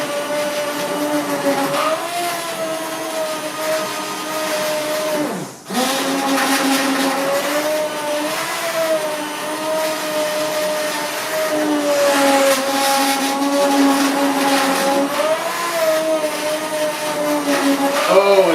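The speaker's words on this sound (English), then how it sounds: "I'm going to hit this once again with the immersion blender" Immersion blender whirring steadily through a thick apple and cauliflower curry soup, a loud continuous motor drone with shifting pitch and one brief dip midway, running for the full stretch.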